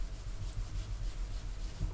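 A cloth rubs polish into a stainless steel sink with a soft, continuous scrubbing swish, close and fairly quiet, holding an even back-and-forth rhythm and no talking.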